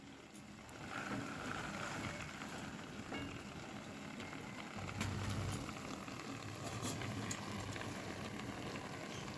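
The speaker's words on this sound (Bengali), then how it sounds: "এবার আমি কড়াইশুঁটিগুলোকে বাঁধাকপির মধ্যে দিয়ে দেবো, যাতে একসাথে ভালোভাবে দুটোই সেদ্ধ হয়ে যায়" Cabbage and green peas boiling together in a pot of water give a steady low bubbling roar with soft hissing, constant throughout and growing slightly louder partway through, with no voices.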